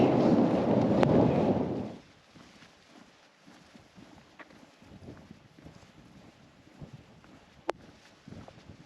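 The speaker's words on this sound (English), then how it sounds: "It's very windy." Strong wind gusts at a wild campsite in the Lake District, Cumbria, during a storm buffet the microphone in a loud, rumbling roar for about two seconds, then drop to a much quieter outdoor hush with faint rustles.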